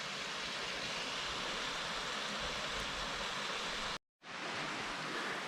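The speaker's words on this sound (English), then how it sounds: "Got a great view of the waterfall from up here though." Mossy Cave waterfall at Bryce Canyon, a small fall heard as a steady broadband rush of falling water, loud and continuous apart from a brief cutout near the end.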